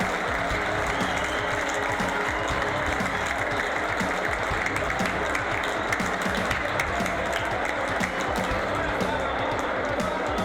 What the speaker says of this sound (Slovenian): Gledalci so ob zgodnjem vodstvu imeli večkrat priložnost za aplavz